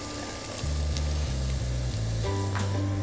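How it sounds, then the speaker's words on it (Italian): Chopped onion sautéing in a pot as the base of a soffritto, a continuous soft sizzle under a low, shifting background hum. "mentre la nostra cipolla continua a rosolare"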